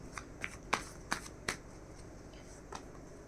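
Tarot cards being shuffled by hand, several crisp riffling bursts at uneven intervals over a soft steady background, close and moderately quiet.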